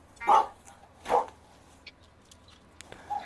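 Two loud barks from a dog close by, about a second apart, followed by fainter scattered noises in a quiet outdoor setting.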